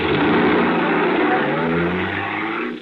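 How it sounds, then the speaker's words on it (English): A radio drama sound effect of a car engine revving and swinging through a U-turn, loud and close, the motor note rising then easing off over about three seconds, with no voices. "I made a U-turn, bumped the opposite curve, and headed back the other way."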